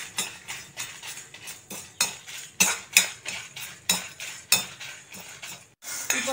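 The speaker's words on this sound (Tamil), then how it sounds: "இப்போ இதை வெறு சட்டியிலே போட்டு நல்லா சவக்க வறுத்து எடுத்துக்கிறேன்" Spices and tamarind dry-roasting in an oil-free pan, heard as a steady rhythm of sharp metal spoon scrapes and clanks, one every half second or so, close and fairly loud.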